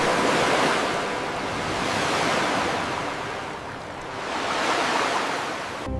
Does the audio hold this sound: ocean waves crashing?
yes